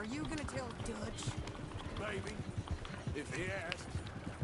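Hooves of a horse in Red Dead Redemption 2 thud in quick galloping rhythm at moderate distance, running steadily beneath casual talk.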